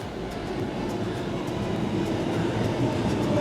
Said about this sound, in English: A double-decker train.